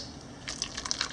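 Parsley-flecked sauce being poured over Salisbury steak gives soft, faint wet splashes and patters that grow a little busier toward the end, heard alone.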